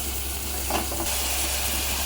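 Sliced onions and chillies fry in oil in a pan, giving a steady, close, hissing sizzle that holds unbroken throughout.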